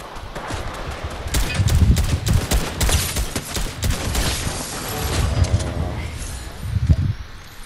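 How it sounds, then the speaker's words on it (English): Bursts of gunfire in the Fortnite battle royale, a rapid fusillade of shots crackling close by with a few louder reports near the end, played on PS5 with no voices over it. "There's now the guys are shooting at them."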